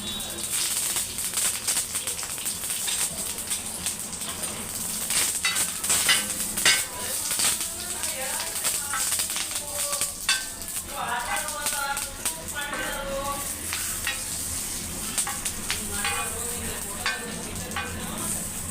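Mustard seeds and cumin crackle and sizzle steadily in a hot pan while tempering a chutney, a dense, close spatter of pops that runs throughout under faint speech.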